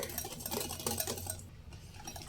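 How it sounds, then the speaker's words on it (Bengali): Sugar is stirred in a pan on a gas stove until it melts, giving soft, close scraping and clinking, faint and fairly continuous for a couple of seconds. "চিনি মেল্ট হয়ে আসা পর্যন্ত নেড়ে নেব"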